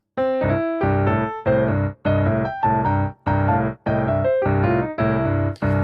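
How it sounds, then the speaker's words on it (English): A piano plays a repeating blues bass line in short chord-like phrases separated by brief pauses, clear and close, with no voices. "This is the bass line, so it sounds like this."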